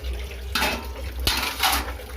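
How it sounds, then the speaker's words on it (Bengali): Dishes are washed by hand in a bathroom basin at night: close clinks of plates and pots come over running tap water, in two or three separate bursts of handling. "রাত হয়ে গেছে বলে বেসিনেই ধুয়ে নিচ্ছি।"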